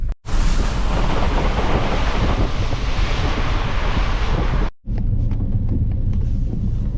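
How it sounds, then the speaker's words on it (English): A car, likely a Fiat 500, driving through water on flooded roads, with a loud continuous roaring wash broken by two short dropouts. "Oh, the roads are flooded."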